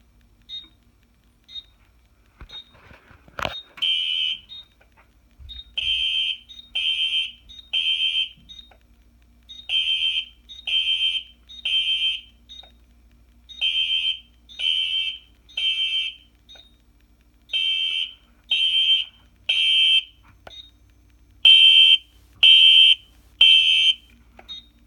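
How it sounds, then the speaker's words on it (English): Fire alarm notification appliances on a panel sound in unison, a series of loud, evenly spaced electronic beeping bursts in repeating groups of three with short gaps of silence between sets. "actuate the alarms, and you'll see that they stay perfectly in sync"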